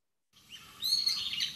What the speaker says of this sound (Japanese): あとヒヨドリですね。